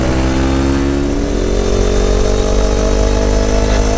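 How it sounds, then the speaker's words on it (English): A CFMoto 700 CL-X motorcycle accelerates hard in first gear, its engine note rising steadily and loud throughout with no pauses, close to the microphone with wind rush underneath. "See how much snap this bike has. How much almost lost out of your arm in that first gear."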